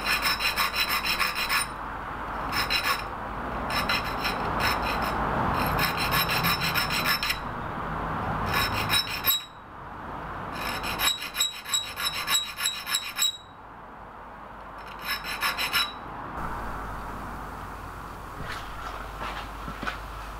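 Filing teeth into a hand-made Mästermyr-style hacksaw blade: repeated short rasping strokes of a file on steel, close and fairly loud, in bursts with brief pauses and no talking.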